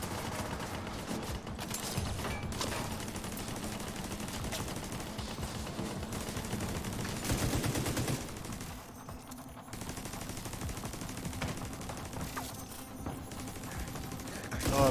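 Sustained machine gun fire from an M249 in Division 2, rattling in dense bursts across the whole stretch with brief dips, loud and close amid game ambience.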